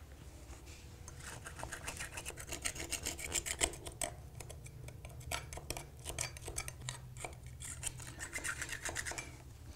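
A scraper works over a wall surface to remove old dried paint, making a close, continuous rapid rasping scrape in repeated strokes over a low background hum.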